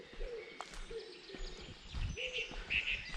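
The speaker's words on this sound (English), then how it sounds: "all you've got to do is listen to the birds" Birds in Holyford Woods in Seaton, Devon calling quietly: several brief chirps and tweets scattered across the moment, with low cooing that may come from a wood pigeon, faint and distant.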